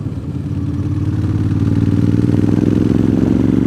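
A motorcycle rides through the mountains, its engine a steady, close mid-pitched drone with a rhythmic rumble that holds constant and swells slightly toward the end, with no talking.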